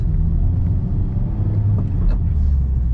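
A Honda Type R with a manual gearbox driving while sounding wrong, a loud low engine rumble and drone that wavers unevenly, heard close from inside the cabin with no talk.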